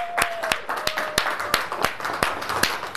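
Clapping during a Thai Facebook Live celebrity giveaway show: a small group claps in a loose, fairly regular rhythm of distinct sharp hand claps, moderately close, with a faint tone underneath.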